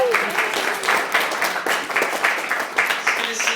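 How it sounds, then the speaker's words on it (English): Comedy club crowd applauding family members in the audience, a dense burst of clapping with a voice speaking over it, fairly loud and close throughout. "Can I get a round of applause for them?"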